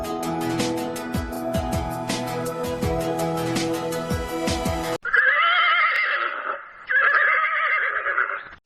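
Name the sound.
horse neighing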